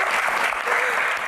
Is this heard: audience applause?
yes